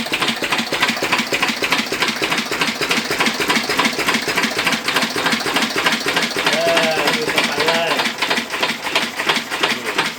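An antique Lister engine runs at a brisk, even chug, loud and near throughout, with a voice briefly audible under the mechanical clatter.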